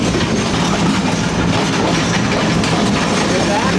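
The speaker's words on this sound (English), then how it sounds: "This is what the train sounds like when you're crossing it." A train runs along the rails as heard from outside between cars on the Chama, New Mexico line, a loud continuous rumbling roar with clattering wheel noise throughout.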